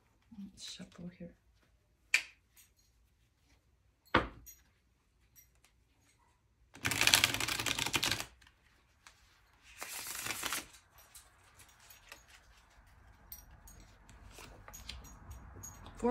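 A deck of tarot cards is shuffled by hand in two distinct bursts of riffling, each about a second long, with faint taps and quiet rustling in between in a calm indoor setting.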